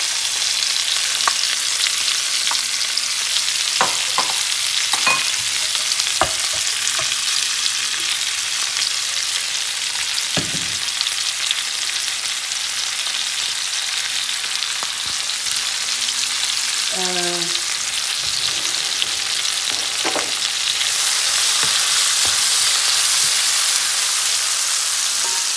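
Onions and then vegetables fry in a pan with a steady, close sizzle, broken by clinks and scrapes of stirring throughout, with no one speaking.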